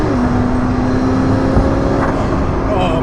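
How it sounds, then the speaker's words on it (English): A McLaren P1 hypercar's turbocharged engine drones loudly and steadily for about three seconds, close up from inside the car, with a faint hiss and flutter that could be wastegate noise as the throttle lifts. "the quicker you lift off, the more of the wastegate noise you get"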